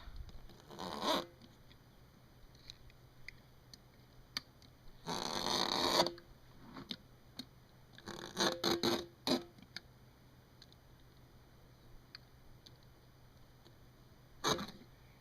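Blade cutting through a rubber tire sidewall with nylon string embedded in it, heard as a few separate rasping bursts and a longer sawing stretch against a quiet background, close and without talk.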